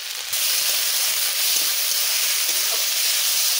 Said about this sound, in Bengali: বাবা দুটো আলু ভাজা করতেছি